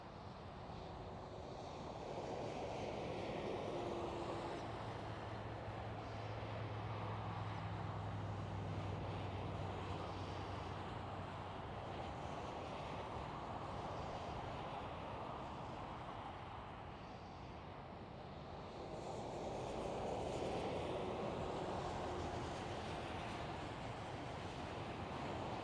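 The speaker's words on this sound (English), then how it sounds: "there's the big one, looks like an A330, landing on the center runway" An Airbus A330 lands on the center runway at Schiphol, Amsterdam. The sound is a steady, distant jet roar mixed with wind and outdoor ambience. It holds for the full stretch without talk.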